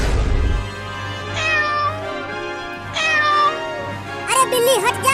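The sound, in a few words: cat meowing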